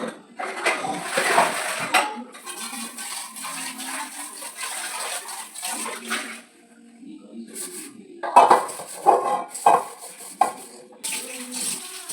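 Pots and dishes clank and clatter as they are gathered up for washing in a home kitchen, in irregular bursts separated by quiet gaps, with a voice speaking now and then.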